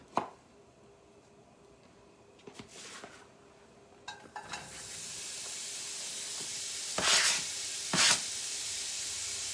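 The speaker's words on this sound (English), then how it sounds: "we're going to put the bacon in our wok and let that cook" Bacon cooking in a wok, a low steady sizzle with scattered clinks of utensils and pans and two louder bursts of spitting hiss toward the end, quiet overall with no talking.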